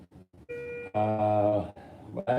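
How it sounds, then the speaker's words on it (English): An electronic beeping tone sounds in a hospital emergency room. It is a steady, sustained tone over and between a person's talking nearby. "So I apologize for the beeping."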